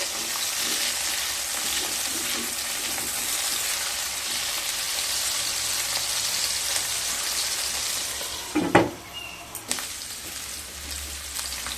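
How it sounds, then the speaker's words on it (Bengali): Potatoes fry in oil until light brown, a steady close hiss of sizzling with a couple of brief utensil clatters near the end. "আলুগুলোকে হালকা ব্রাউন কালার করে ভেজে নিয়ে তারপর ফিরে আসছি।"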